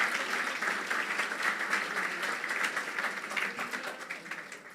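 A church congregation claps and applauds for the children seated on the floor, a steady, dense wash of many hands that tapers slightly toward the end, with no talking.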